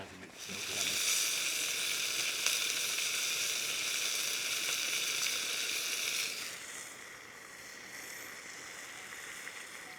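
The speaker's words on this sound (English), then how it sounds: "So I got my steak cooking." Steak sizzling and frying at a campsite, a steady close hiss that eases slightly partway through.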